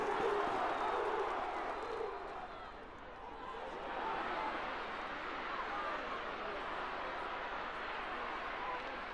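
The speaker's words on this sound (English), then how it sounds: "the Offaly crowd come to life" A hurling crowd at an Offaly v Galway semi-final replay in Portlaoise roars and cheers after a goal, a broad, sustained wash of distant stadium noise with commentary over it.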